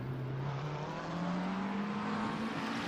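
Race cars from a simulated championship in Assetto Corsa, with a Ferrari, an Aston Martin and two Porsches on track, give a steady, continuous engine drone whose pitch rises slowly throughout.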